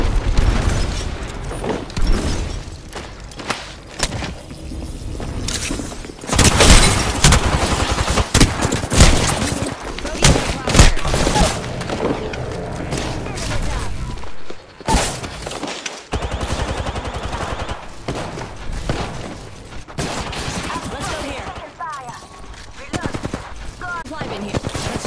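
Loud, dense gunfire from Apex Legends played on a PS4 Pro: sustained automatic bursts and heavy booms come in rapid volleys, with short lulls, and game voice lines sound over the shooting.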